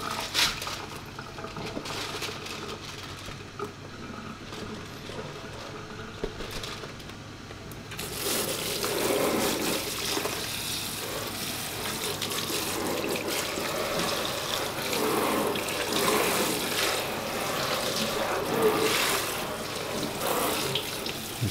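Running tap water pours over soaked sticky rice in a steaming basket, a steady near splashing rush that grows fuller and louder partway through, with no talking.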